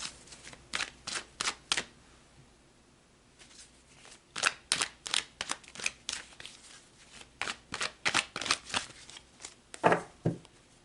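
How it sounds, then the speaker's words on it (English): Tarot cards are shuffled in close, crisp bursts, one riffle after another in quick rhythmic groups, with short pauses between them. The sound is soft and heard alone. "So let's pull some more cards."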